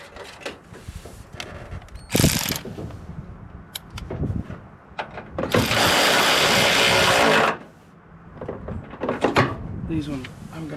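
A ratchet tightens bolts on the front fender of a 1999 Ford F-450 truck: short clicking bursts and a longer sustained rasping run close to the microphone, with voices and handling noise in between.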